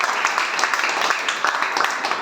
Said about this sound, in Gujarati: જોરદાર તાળી સાથે આપણે સવાર કરીએ.